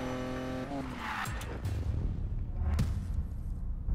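A Lamborghini Diablo SV races in Need for Speed Payback, its engine revving and dropping as the tires squeal briefly, with a few sharp bumps and hits over a steady road roar.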